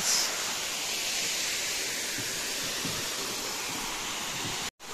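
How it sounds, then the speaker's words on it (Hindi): Steady broadband rush of a waterfall at Gundichaghagi, a dense continuous roar of falling water that stays even throughout before cutting out abruptly at the very end. "तो जलप्रपात सेठी झरणा बहुची।"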